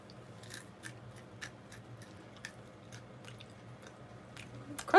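Dry freeze-dried tempura shrimp udon food pack bitten without water, producing a quiet series of sharp crunchy chews in a steady rhythm, close to the mouth with no talking.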